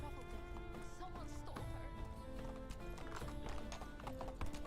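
Horse hooves clip-clop steadily in Medieval Dynasty, with an occasional whinny, under a busy layer of village ambience and game music, near and fairly even in loudness.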